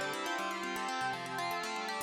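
A dense, shimmering tone from a synthesizer resonator module, fully panned, with bright metallic resonances, its pitches stepping and shifting steadily for a couple of seconds, quiet and continuous.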